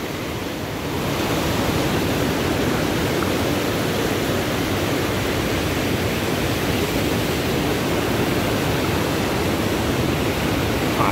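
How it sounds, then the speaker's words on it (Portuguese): Rainwater from a harsh rainy season in the Ceará backlands pours over a small barrier as a little waterfall, making a loud, steady, broad rushing roar close by that carries on without a break and has no talking over it. "Quando chega aqui nessa barreira, com essa queda d'água, faz essa barulheira"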